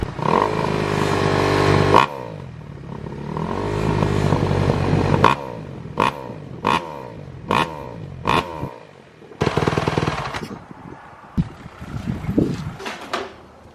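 A Kawasaki KX250F dirt bike engine with its stock exhaust idles roughly, then revs in a series of sharp throttle blips, rising and dropping with a rattly, loud exhaust bark up close.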